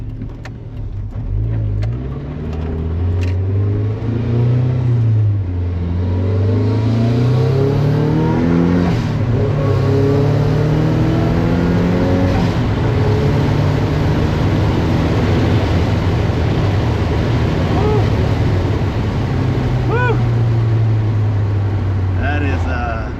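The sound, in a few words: turbocharged 1997 Mazda Miata accelerating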